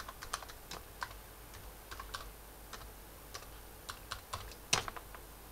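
Keys clatter on a computer keyboard in a quiet room, a quick uneven run of close, light clicks with one sharper press near the end as Enter is struck in a Linux terminal.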